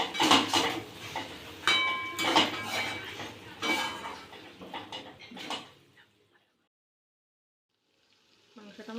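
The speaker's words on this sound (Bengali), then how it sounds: "আলুটা দিয়ে আরও 2 মিনিট ভালো করে কষিয়ে নেব।" Potatoes being stirred and sautéed with country chicken in a pot, several close scraping clanks of a spatula against metal, then near silence before a faint sound returns.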